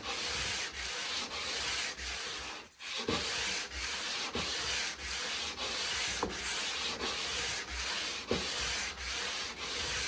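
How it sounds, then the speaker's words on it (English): A guitar fretboard being sanded with steady back-and-forth strokes, producing rhythmic, close rubbing scrapes about once per second, with a short pause near the start. "I got one little spot here in the center that I have to sand out."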